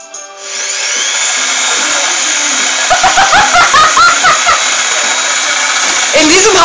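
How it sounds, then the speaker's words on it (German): An electric drill used as a mixer to whip cream in a household kitchen starts up and runs with a steady, loud high-pitched whine, the beaters churning audibly while people talk over it. "In diesem Haushalt benutzt man keinen Mixer,"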